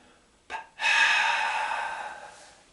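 A single long, forceful breath released with a rushing, airy hiss during an escape technique demonstration, following a short sharp intake and fading over about two seconds.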